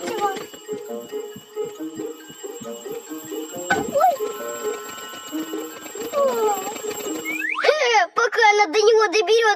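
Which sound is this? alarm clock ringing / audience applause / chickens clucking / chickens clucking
alarm clock ringing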